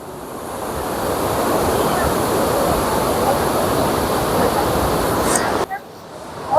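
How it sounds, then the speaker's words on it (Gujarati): A river rushing through a valley beneath an iron bridge, a loud continuous roar of fast-flowing water heard close, with a person speaking faintly under it near the end. "અને વેલીની વચ્ચેથી આમથી નદી આવે છે, બ્રિજ નીચેથી આમ જાય છે."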